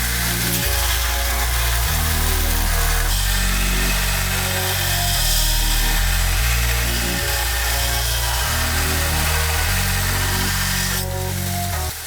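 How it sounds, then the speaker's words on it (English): A power grinder grinding forged Damascus steel clean, a loud continuous whirring roar with a shifting low tone as pressure varies, close by and steady throughout. "Let's go to the grinder and grind the surface clean"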